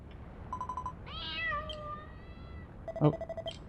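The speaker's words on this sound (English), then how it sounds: "Oh, there's a kitty, eh? Go on, scram!" In the video game Dragon Quest Builders 2, a cat lets out one clear drawn-out meow over a low ambient game hum, with short tonal game chimes before and after it.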